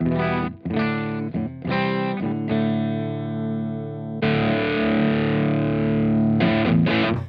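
Heavily distorted Gibson SG electric guitar through cab impulse responses playing choppy chords, then a long sustained ringing chord, thick and loud up close, with a few stabs at the end.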